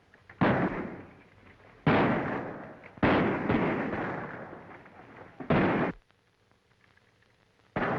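Gunfire in a 1937 war film battle scene, heard as loud, booming volleys that arrive in several separated bursts with rumbling decays, followed by a quiet pause before another burst begins.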